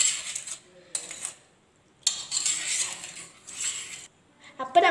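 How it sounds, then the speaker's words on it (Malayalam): A spoon clinks and scrapes against a bowl while stirring coffee powder pudding mixture, coming in short separate bursts with quiet gaps between them. "കുറച്ചൊന്ന് ഇളക്കി കൊടുത്തിട്ട്"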